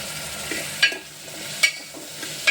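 Potato pieces and onions frying in a pan for a Gujarati paratha shak, a steady low sizzle with a few sharp stirring clinks and scrapes spaced through it.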